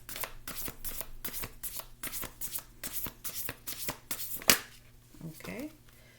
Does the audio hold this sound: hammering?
no